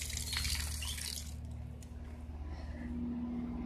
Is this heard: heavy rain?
no